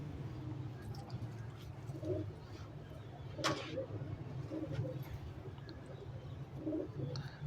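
Domestic pigeon (kabootar) belonging to a pigeon keeper, cooing softly in short low murmuring bursts over a steady background hum, several coos spaced across the stretch, with faint outdoor noise.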